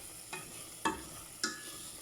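Meat and added ingredients stirred in a cooking pan, three soft scraping strokes over a steady faint sizzle, close and quiet with no voices.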